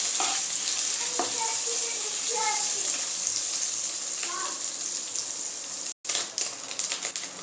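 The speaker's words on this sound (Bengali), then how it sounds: "মাছের ডিমটা দিয়ে দিচ্ছি মাছের ডিমটাকে একটু ভেজে নেব আমি" Fish roe frying in a kadai gives a steady, close, bright sizzle with a few faint clicks, broken by a brief gap near the end before the spattering resumes.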